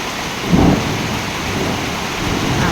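A low rumble of thunder rolls over steady heavy rain and hail, swelling briefly near the start and then fading back into the downpour.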